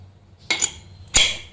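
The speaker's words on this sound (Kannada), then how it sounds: "ಈಗ ಕುಕ್ಕರ್ ಮುಚ್ಚಳ ಮುಚ್ಚ್ತಾ ಇದ್ದೀನಿ" Two sharp metallic clanks about half a second apart, close by, as a pressure cooker lid is fitted and locked into place.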